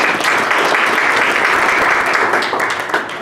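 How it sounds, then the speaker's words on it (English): An audience at a luncheon breaks into sustained, dense applause for a food provider, loud and steady throughout and tapering slightly at the end. "so if we give a little round of applause to Pancheros"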